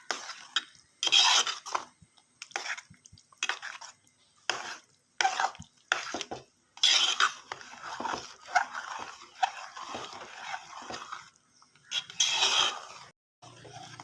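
A spoon scrapes and stirs thick sago, jaggery and jackfruit pudding in a pot, in repeated short rhythmic strokes with brief pauses between them, close and clear.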